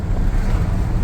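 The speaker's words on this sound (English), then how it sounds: "Oh yeah, it's really windy today too. Blowing me all over the road." Strong wind buffets the microphone outdoors near a busy road, a steady loud roar and rumble that fills the whole moment without a break.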